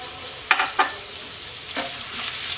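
Chopped onion and a torn bay leaf frying in hot oil for Bengali moong dal, a steady low sizzle with a few sharp stirring scrapes near the start and another pair later, close and moderately quiet.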